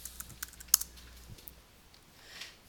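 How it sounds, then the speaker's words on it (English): A password is typed on a computer keyboard, a quick burst of light key clicks at the start followed by a few scattered taps, close but quiet, with no talking. "then you type in your password"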